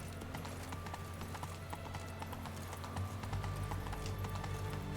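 Horse hooves clip-clopping in The Witcher 3 video game, a steady rhythmic trot close and loud over a low background rumble.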